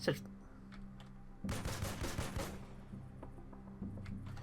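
Gunfire in the post-apocalyptic turn-based strategy game Dreadlands, a rapid burst of shots lasting about a second amid quiet background music, with someone speaking faintly around it.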